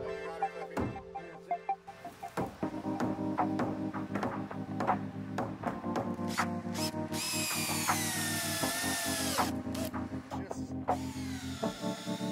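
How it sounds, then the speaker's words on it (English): A power drill drives screws through rafters into the top wallboard of a PacRim structure, with repeated short whirring bursts, clicks and knocks, then a longer high-pitched whine as a screw is run in. "Install rafters in correct notches and screw down onto top wallboard."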